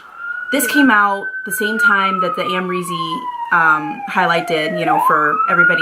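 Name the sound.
emergency sirens from a busy street outside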